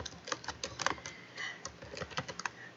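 Quiet, rapid clicking of a computer keyboard as a short note is typed, irregular bursts of keystrokes close by with no voices.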